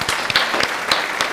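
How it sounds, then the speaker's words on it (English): A round of applause during a podcast conversation, a steady patter of several hands clapping with a few sharper individual claps standing out, close and fairly loud, no talking over it. "Like, round of applause"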